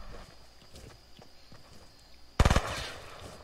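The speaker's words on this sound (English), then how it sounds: "I'm shooting at the bushes." Video game gunfire aimed into bushes: a sudden loud burst of several rapid shots near the end, after a stretch of quiet rustling and soft footstep-like movement.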